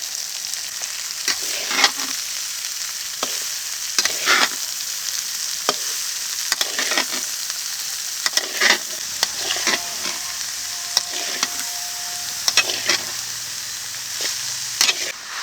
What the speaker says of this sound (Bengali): এখন পাতাকপিটা দিয়ে দিচ্ছি